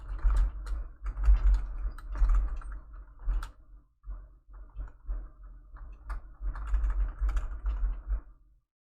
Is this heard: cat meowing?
no